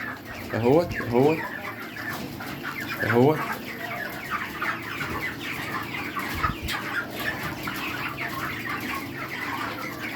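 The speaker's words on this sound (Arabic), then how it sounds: "حتى انتوا لما هسكت كده هتشوفوا انتوا حالا الفراخ عامله ازاي" White broiler chickens inside battery cages clucking and squawking throughout, several close calls rising over a dense, continuous flock chatter.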